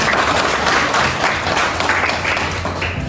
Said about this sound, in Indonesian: Kasih tepuk tangan untuk Mutiara.